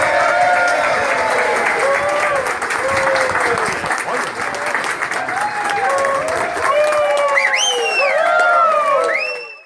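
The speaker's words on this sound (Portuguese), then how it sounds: "Jaqueline foi surpreendida com uma salva de palmas feita por todos os funcionários públicos que atuam no prédio." Public employees at a city hall building give the incoming mayor Jaqueline a sustained round of applause, dense clapping with scattered whoops and whistles, loud and close throughout before cutting off at the end.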